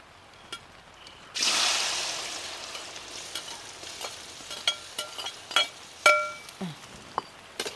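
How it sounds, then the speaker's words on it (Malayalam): Cut banana pieces drop into a hot pan for a vermicelli pola and begin to sauté, a sudden hiss of sizzling that settles into a faint fry, followed by scattered light clinks of a utensil against the pan. "നമുക്കിതിൽ നമ്മൾ മുറിച്ച് വെച്ച പഴം ഇതിലേക്ക് ഇട്ട് കൊടുത്തൊന്ന് വാട്ടിയെടുക്കാം"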